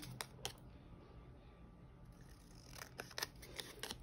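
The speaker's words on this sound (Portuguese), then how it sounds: "Eu gosto da tesoura, tem mais facilidade, então, vou fazer na tesoura" Scissors snip through paper while someone makes a small personalized paper keychain, with a few quiet, isolated crisp cuts spread across a faint, hushed background.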